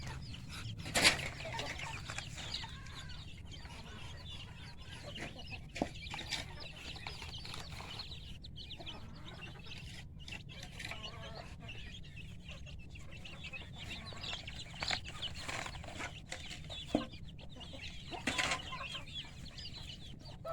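Chickens cluck and call across an open rice field, scattered sharp clucks and a few louder squawks over constant outdoor rustle and background noise, moderately distant.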